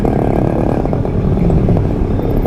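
A small modified 50cc motorcycle engine runs close by with a loud, steady, buzzing drone and some rattling clatter, continuous for a couple of seconds.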